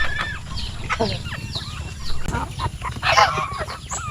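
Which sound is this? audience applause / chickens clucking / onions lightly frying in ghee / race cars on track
chickens clucking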